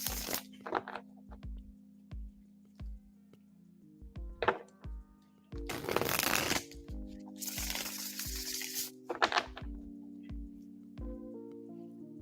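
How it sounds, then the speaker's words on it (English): Cards being shuffled and riffled in short crackling bursts, close by, over a steady tonal hum in the background. "All right, Ray, we're shuffling for you now."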